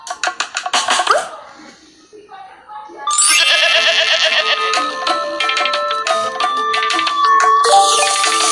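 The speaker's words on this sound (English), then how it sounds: "Goat." Cartoon goat bleats from a children's forest animal-rescue game, a quick run of loud, choppy bleat syllables, then a pause and a bright, sustained chiming game jingle.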